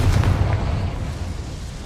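Spell explosions in the video game Hogwarts Legacy make a deep, rumbling boom that decays over about two seconds, loud and heavy in the low end. No voice is heard.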